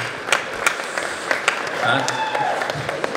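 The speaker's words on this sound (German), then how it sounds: "ein Applaus für meinen Gegner." Scattered applause from an audience at a live-hacking talk at a trade fair, a few distinct claps with sparse hand hits under a speaking voice.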